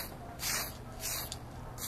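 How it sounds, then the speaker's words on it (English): Short hissing bursts from an aerosol spray can laying top coat onto a part, three or four quick sprays in a row, fairly close and clear with no talking. "spray some top coat on the part to even out the surface"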